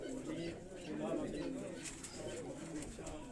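Repeated throaty cooing of a Tunia breed pigeon from Sialkot, rolling low calls rising and falling close at hand, with someone talking faintly alongside.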